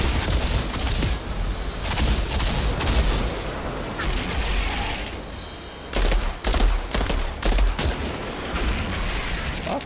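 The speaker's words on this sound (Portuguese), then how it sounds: "Outrider, estamos ouvindo tiros." Dense, sustained automatic gunfire and bursts of shooting with booms fill a firefight in the video game Outriders Worldslayer, loud and continuous with brief lulls and sharp volleys toward the end.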